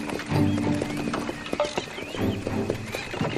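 Horses pulling a wagon, with steady clip-clop hoofbeats and a whinny or neigh, loud and close, continuous over several seconds with no talking.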